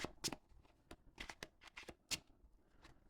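Trading cards from a game deck being shuffled by hand, a series of quick, close, crisp riffling bursts with short pauses between them and no talk.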